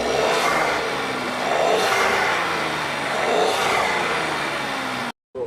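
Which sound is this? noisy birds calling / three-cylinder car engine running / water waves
three-cylinder car engine running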